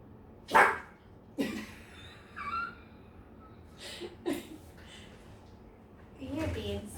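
A puppy gives a few short, sharp barks and yips spread across several seconds, close by in a quiet room, with a person talking softly around them.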